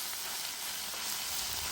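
Greens such as dandelion, kale, Swiss chard and spinach sizzle steadily while stir frying in a pan, a continuous soft crackle and hiss heard alone.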